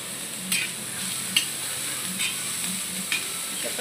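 Onion frying in oil over high flame, a dense close sizzle with rhythmic spatula stirs roughly every second, each adding a short scrape, no voices.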